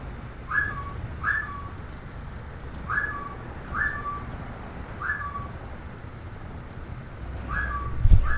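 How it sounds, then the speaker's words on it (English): A pet parrot gives sharp, repeated whistling squawks, mostly in quick pairs, over a steady low rumble and faint background noise. "That's my parrot, Comrade."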